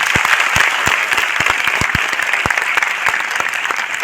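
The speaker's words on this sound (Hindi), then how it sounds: "एक बार और तालियां" Loud, sustained applause from a large audience at a success celebration event, dense clapping with sharp individual claps standing out near the front, continuing steadily for about four seconds without speech.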